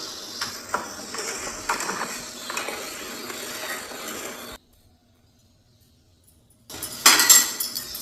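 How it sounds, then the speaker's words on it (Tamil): A ladle stirs bottle gourd buttermilk curry in a pot for an Onam sadhya, making light metallic clinks and scraping for several seconds. A short silence follows, then a louder burst of clattering stirring. "இப்போ அடுப்பை சிம்மில் வச்சுட்டு ஒரு 2-3 தடவை அப்படியே கிளறி விடுங்க"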